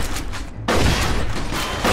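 Rapid bursts of gunfire crackling close by, a sudden loud barrage after a brief gap, dense and sustained, in the video game Mafia II.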